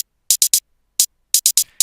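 Closed hi-hat hits from a dance track play as short, crisp, bright ticks, three in quick succession, a single one, then another rapid group of four, alone and fairly loud.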